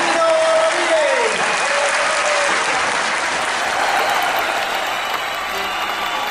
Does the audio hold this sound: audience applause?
yes